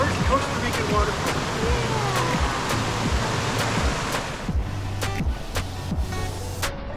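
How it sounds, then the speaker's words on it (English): A Costa Rican waterfall near La Fortuna roars steadily nearby, a dense rushing wash of water with a few sharp clicks and thumps cutting through. "first Costa Rican waterfall."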